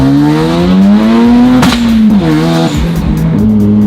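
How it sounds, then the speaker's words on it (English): A Mazda RX-7 from the Fast and Furious films accelerates hard, its rotary engine loud and close, pitch climbing through the gears with brief dips at shifts and no talk over it. "This car's crazy. It's legit quick."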